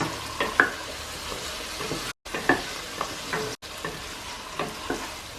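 Potatoes with onions and turmeric fry in a pan over high heat, a soft steady sizzle broken by repeated scraping stirs of the spoon, heard up close with no talking.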